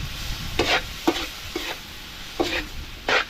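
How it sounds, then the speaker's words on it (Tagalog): Meat for adobo being sautéed in a pan outdoors, with a spatula stirring in short scraping bursts roughly every half second over a faint sizzle, fairly quiet and close. "Ito pong igigis ang maigi. Para po matanggal po ang lansa."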